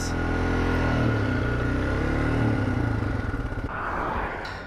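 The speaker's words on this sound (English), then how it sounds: "The gears resisted and the engine stuttered under strain." A motorcycle with a burnt clutch labors under strain, its engine droning loudly and then stuttering into choppy, uneven pulses before easing off, heard close with no talking.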